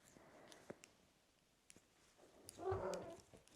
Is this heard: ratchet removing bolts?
no